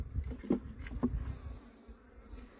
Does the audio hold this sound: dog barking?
no